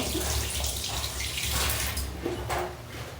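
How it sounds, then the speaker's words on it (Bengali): Eggplants being rinsed under a running kitchen tap, a steady broadband rush of flowing water with small splashes and shifts as the vegetables are turned, close and fairly loud with no talking. "আমি নর্মালি করি আমি এরকম বেগুনগুলো জাস্ট ধুয়ে নিয়ে"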